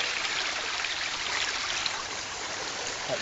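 Water drips and trickles from a wet shirt being wrung out, a steady close splashing patter that continues without pause.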